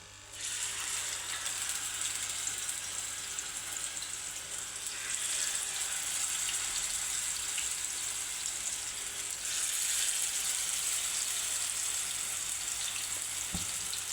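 Raw minced meat kababs frying in cooking oil on a griddle, giving a steady, close sizzle and crackle that swells slightly partway through, with no talking.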